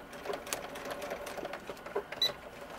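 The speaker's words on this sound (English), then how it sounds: "So we're just sewing that down." A sewing machine stitches down a seam on a small jacket for a third-scale doll, a soft, quick mechanical whir and tapping, fairly quiet, with a brief click near the end.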